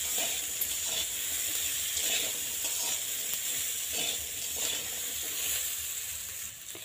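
Vegetables with turmeric and salt in a pan, for a jackfruit-seed and drumstick chorchori, sizzle softly while being stirred in regular rhythmic scrapes, close and moderately quiet, with no talking.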